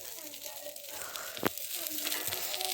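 Eggplant slices frying in very little oil give off a soft, steady sizzle, with a few sharper crackles and pops, running quietly under a person talking throughout.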